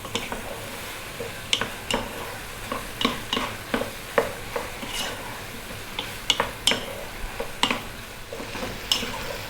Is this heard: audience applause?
no